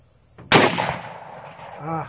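A single sharp, loud gunshot from a Henry .30-30 lever-action rifle with a brass frame, cracking out once and decaying quickly; a brief voice follows near the end.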